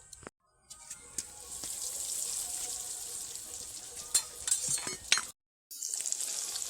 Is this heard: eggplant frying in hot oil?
yes